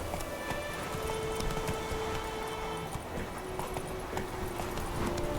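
Geralt's horse Roach gallops in The Witcher 3 with a steady, continuous clip-clop of hooves, moderately loud over game ambience and a low musical drone.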